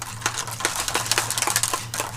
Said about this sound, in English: Everybody wondering, that noise is my shaker.